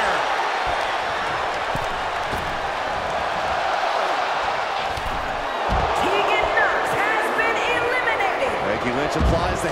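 A dense, roaring crowd at a WWE Royal Rumble in a wrestling video game keeps up a continuous wash of cheering and noise, swelling slightly later on, with commentary voices over it.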